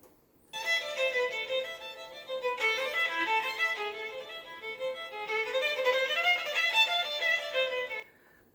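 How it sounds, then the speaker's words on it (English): Violin plays a bright, bowed melody in phrases, moderately loud and alone, with short pauses between passages. "That's what the violin sounds like."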